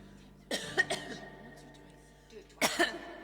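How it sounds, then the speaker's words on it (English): Two bursts of coughing, each a pair of rough hacks, close and fairly soft, separated by a short pause. "Oh, I'm coughing."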